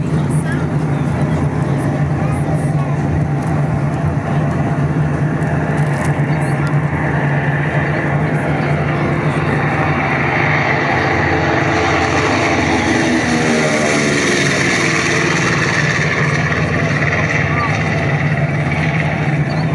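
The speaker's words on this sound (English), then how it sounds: "that is the sound of an A20 Boston taken off, equipped with the Wright Cyclone 2600 engines" Powerful twin Wright Cyclone 2600 piston engines of an A-20 Boston aircraft roar steadily and loudly throughout, with a rising throaty drone as it accelerates for takeoff.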